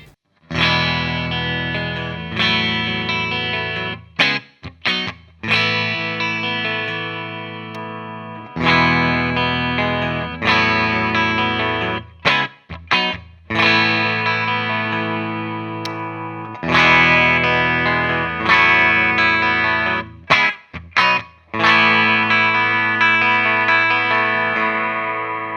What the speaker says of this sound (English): Here's what this guitar sounds like through the clean channel of Hughes & Kettner Black Spirit 200.